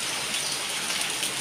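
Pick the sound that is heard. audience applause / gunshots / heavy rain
heavy rain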